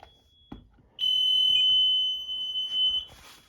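A home security system alarm sounds with a loud, steady high-pitched electronic tone that starts abruptly after a couple of faint knocks, holds for about two seconds, then continues at lower level with pulses.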